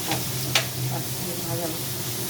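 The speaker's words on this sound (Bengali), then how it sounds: "লাল লাল করে আলুটা ভাজা হবে" Potatoes fry in a pan for chowmein, giving a steady low sizzle with a few brief stirring scrapes and clinks, close by and moderately quiet, with no talking.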